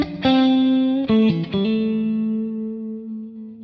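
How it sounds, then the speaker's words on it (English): A Stratocaster played through a Jam Boomster boost pedal into a Matchless amp rings out a few bright, close notes and a short bend, then sustains and slowly decays. "Now I've got my Strat plugged into the Boomster and it's going into my matchless amp and it sounds like this."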